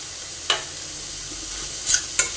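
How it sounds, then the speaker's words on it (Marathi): Amaranth leaves with crushed peanuts being stirred in a pan, giving a low steady sizzle with a few brief scraping clicks of the spoon against the pan. "शेंगदाण्याचं कूट टाकून आपण पूर्णपणे हलवून घेतलेले आहे"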